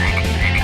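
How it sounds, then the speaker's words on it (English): A single loud frog croak from the trivia game You Don't Know Jack 2015, a short, close, throaty ribbit sounding on its own. "Man, why are all these frogs falling from our ceiling?"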